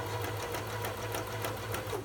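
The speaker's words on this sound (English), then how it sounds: "Foot lever back down, foot back onto your foot pedal, and you carry on stitching." Sewing machine stitching appliqué, a steady close whir with quick regular needle ticks running throughout, no voices.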